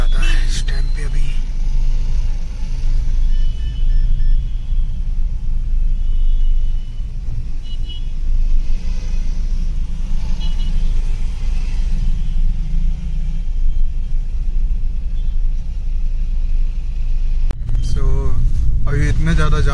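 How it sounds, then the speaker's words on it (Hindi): Heavy, congested road traffic in a busy Srinagar market, with a steady close rumble of car and vehicle engines throughout and occasional louder passing noises. "सो ट्रैफिक बहुत ज़्यादा है इस टाइम पे अभी"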